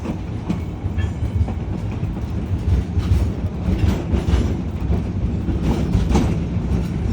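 An oil-burning Shay geared steam locomotive hauls a train along a logging railroad. It gives a steady rolling rumble with rhythmic clickety-clack of wheels on rail joints, close and continuous, with no talk.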